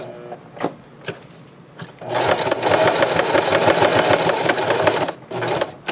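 A home sewing machine stitches crisscross lines across a Dollar Tree potholder, with a few short clicks of the needle first and then a continuous fast, rattling run lasting several seconds before it stops.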